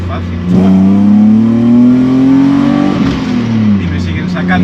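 A restored BMW E30 with a swapped M52B28 engine revs up close and loud, its tone climbing steadily and holding before dropping back toward idle near the end.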